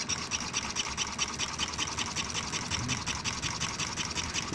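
A model horizontally opposed two-cylinder engine runs with a fast, even mechanical chatter, like a rapid sewing-machine patter, quiet and steady throughout with no voices.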